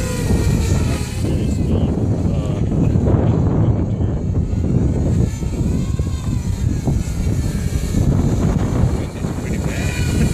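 Strong outdoor wind roars steadily across the microphone for the whole stretch, a loud, dense, low buffeting rumble that never lets up.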